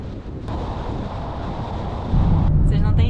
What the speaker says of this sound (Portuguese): Vocês não têm ideia do vento que tá lá fora.